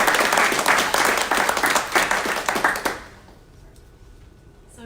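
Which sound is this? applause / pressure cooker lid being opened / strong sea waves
applause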